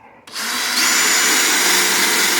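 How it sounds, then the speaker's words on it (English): A power drill bores out spot welds on a Meyers Manx, starting after a brief quiet moment and then running as a steady, loud, close whine that holds to the end. "Take our drill, get on the spot weld."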